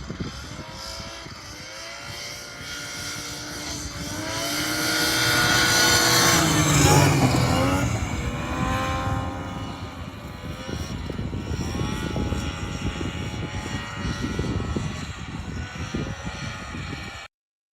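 A vintage snowmobile roars past on a ride at a vintage sled test-and-tune event, a loud droning engine whine that swells to a peak midway and then holds steady, sounding much like a propeller plane.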